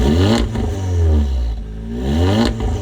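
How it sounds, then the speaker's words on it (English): An Audi S3 engine on a half-cold start revs repeatedly, loud and close, with deep swelling and falling engine roars in a rough rhythm. "I think we need a cold start."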